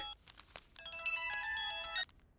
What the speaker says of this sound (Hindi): काका का फोन आ रहा है